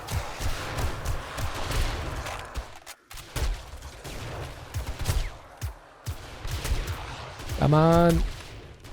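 Rapid rifle gunfire in 7 Days to Die (Rebirth mod) during a day 42 horde night defense, repeated sharp shots in bursts, with a brief spoken remark in between and a louder stretch near the end.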